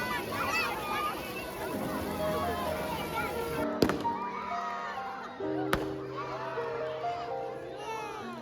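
A summer fireworks display in Japan, with two sharp booming bursts cutting through a steady murmur of crowd and children's voices chattering nearby.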